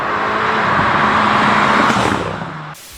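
A tuned Volkswagen Golf 7 GTI drives past with a loud, close engine roar that holds steady and then fades, ending in a sudden cut.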